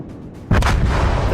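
Battleship Musashi's main guns fire in a naval video game, one sudden heavy boom that rolls on as a loud, sustained rumble after a quieter lead-in.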